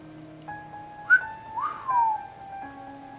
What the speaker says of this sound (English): Gave her a whistle.